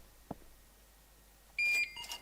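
Checkout scanner beep in the video game Plant Nursery Simulator: one bright electronic beep followed by a shorter double chirp, clean and close over a quiet background, with no voices.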